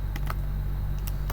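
Keystrokes on a computer keyboard: a few quick, close clicks in short bursts over a steady background hum.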